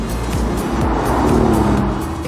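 A Maserati being driven, its engine holding a continuous, fairly loud drone that swells slightly in pitch and strength midway before easing back.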